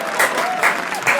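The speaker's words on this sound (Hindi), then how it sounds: "तालियां हमारे इस शानदार गेस्ट के लिए।" A studio audience at a comedy roast show claps for an arriving guest, a dense, lively burst of applause that stays loud and close throughout.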